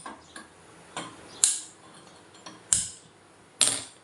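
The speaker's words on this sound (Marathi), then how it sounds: "आधी गॅस ऑन करते मी" A gas stove's igniter clicking as the burner is switched on: a series of sharp, dry ticks, about six in four seconds, irregularly spaced, with the last three louder and crisper, close up and alone.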